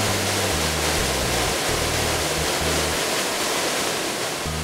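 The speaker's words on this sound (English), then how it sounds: "At the eastern end of the dam, beyond the bridge that connects Mill Lane to Leech Lane, is a powerful waterfall" Powerful waterfall at Sutton Mill Dam in St Helens, a loud, dense, unbroken roar of falling water heard close, with low rumbling pulses underneath.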